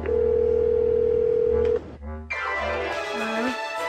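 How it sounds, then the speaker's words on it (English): A telephone dial tone hums steadily for almost two seconds, cuts off, and is followed by brief dialing and line noises, heard close and clear with no one talking. "it's time to venture into uncharted territory by making an actual phone call."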